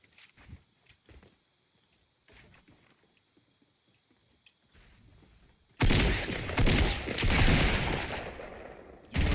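Pump shotgun fire in a battle royale video game: faint footsteps and scattered quiet clicks at first, then a sudden loud burst of close gunfire and impacts that continues to the end.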